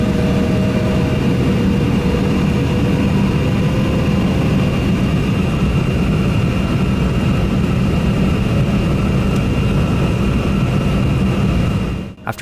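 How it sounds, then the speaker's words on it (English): Two GE jet engines of a Delta Embraer 175 airliner taxiing, a loud, constant roar and whine heard from inside the cabin, unbroken until an abrupt cut at the end. "soon after the two GE engines started up"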